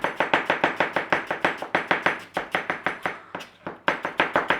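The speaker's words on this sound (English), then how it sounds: "So it doesn't really matter how you fine slice your apple." Knife finely slicing apple on a chopping board, a fast steady run of crisp close chops with a brief pause near the end before the cutting resumes.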